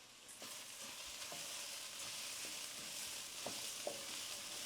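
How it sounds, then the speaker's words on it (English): Arborio rice tipped into onions sautéing in a pan, giving a steady moderate sizzle with scattered light stirring clicks and taps throughout. "So when the onions begin to look translucent, you're gonna add your arborio rice. In it goes."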